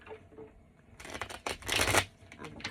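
A deck of tarot cards being shuffled by hand, starting as a soft riffle and building into a brisk, loud burst of rapid card flutter, with quieter handling noise before and after.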